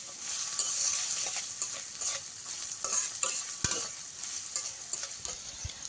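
Garlic, onion and sliced dried and green chilies sizzle steadily in hot oil for drumstick leaf bhaji, with scattered spatula scrapes and stirring clatters over the constant frying hiss, and no talking.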